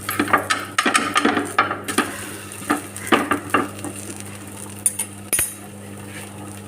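Bread coated in idli batter toasts on a dosa tawa with a low sizzle, broken by a string of sharp spatula scrapes and metallic clinks against the pan, close and fairly loud over a steady hum.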